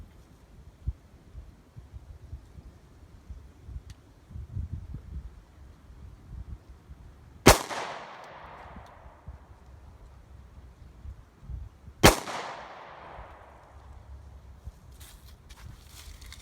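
Two sharp, loud gunshots from a Smith & Wesson M&P Shield 9mm pistol fired with aluminum-cased ammo at an outdoor range, spaced about five seconds apart, each with a ringing echo that tails off, over quiet background noise.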